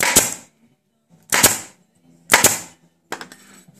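Pneumatic staple gun firing T50 staples into carpet on boat trailer runners: four sharp, loud snaps spaced about a second apart, each followed by a brief hiss of air.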